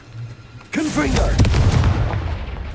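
A Confringo blasting spell in Hogwarts Legacy lands with a sudden heavy boom and rumbling crackle, while a voice-like game sound rises over the blast.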